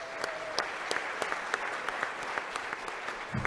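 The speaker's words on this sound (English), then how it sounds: "Big round of applause." Audience clapping for a Weld County commissioner at a Greeley event, a light scattering of hands with a few sharp, nearby claps over a soft steady patter, fading out at the end.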